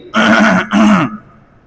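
A voice imitating a cough to draw a passerby's attention: two loud, close, throaty hacking bursts in quick succession, then quiet.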